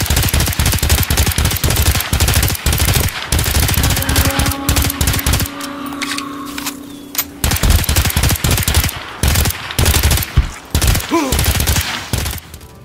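Weapon sounds from the video game Earthfall: loud, fast bursts of automatic gunfire in sustained strings, with a brief pause around the middle where a humming mechanical tone appears before the firing resumes.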